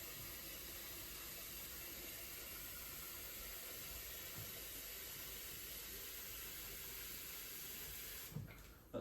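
Tap water running steadily into a kettle, a continuous hissing rush that holds constant throughout before a brief clunk near the end.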